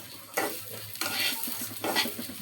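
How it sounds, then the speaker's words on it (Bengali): Rice frying in mustard oil for beef biryani, with a steady soft sizzle broken by three scraping stirs of a spatula in the pan, close and fairly quiet, with no one speaking. "সরিষার তেল দিয়ে ভেজে দিচ্ছি"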